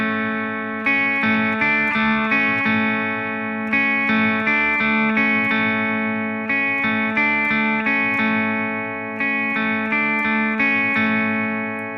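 Distorted electric guitar repeats ringing chords in a steady pattern for the bridge, sustained and thick with effects, played alone.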